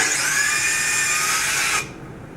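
Power drill boring pocket holes in wood boards, a steady high whine held for under two seconds then cutting off abruptly, close and alone.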